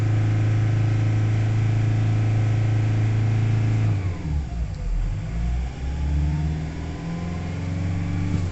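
A Nissan Navara D40 with the 2.5 dCi diesel engine runs after a fuel pump repair, a loud steady low idle drone that dips and wavers briefly midway before settling back to an even rumble.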